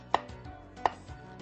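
Knife mincing shallots on a wooden cutting board while preparing vegetarian ribs with beans, two sharp chops about 0.7 s apart, close and clear, with no talking.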